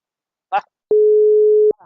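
A call-in line returns one steady telephone busy-signal tone lasting just under a second. It comes right after a short burst of voice and sounds loud and clean.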